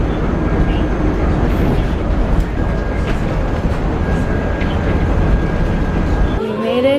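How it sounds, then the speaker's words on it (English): Steady broadband rumble of a moving bus heading to the airport, a continuous loud low drone with faint background voices and a thin steady whine, ending in a brief shuffle. "We are now on a bus to the airport."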